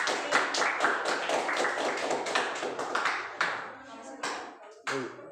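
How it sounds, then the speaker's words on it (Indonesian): A group in a classroom claps their hands together in a loud, dense burst that tapers into scattered, uneven claps near the end, with some voices mixed in. "Tepuk tangan dulu untuk kalian semua."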